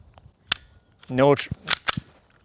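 A Novritsch SSP18 airsoft pistol fires a single sharp crack after some clicking trigger play, with someone talking briefly in between.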